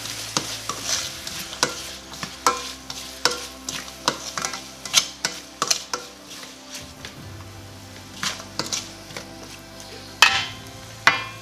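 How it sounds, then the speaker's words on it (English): Onions fry in a pan for chicken tikka masala while a spoon stirs them, producing a steady rhythm of close scraping knocks over a soft, continuous sizzle, with no talking. "Add the onion and give a good mix"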